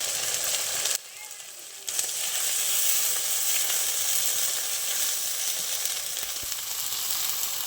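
A ground paste of mustard seeds, melon seeds and poppy seeds hits a hot pan and sizzles loudly and steadily after a short quieter gap, with a hint of stirring under the hiss.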